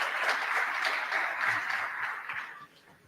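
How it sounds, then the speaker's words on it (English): Symposium audience applauding a speaker at a broadcast-technology event, a moderate wash of clapping from the hall that holds steady, then tapers off and fades out in the last second. "Please, a big applause for him."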